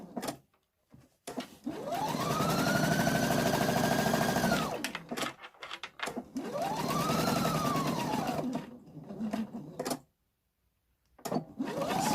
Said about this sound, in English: now we're just going to sew back down to this end here